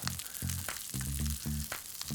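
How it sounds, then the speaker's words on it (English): Broccolini tossed with sumac sizzles and fries steadily in a hot pan, the crackle continuous with stronger bursts roughly every half second as the greens are stirred, close and fairly loud with no talking. "all I'm gonna do is just add a good amount of my broccolini to my pan"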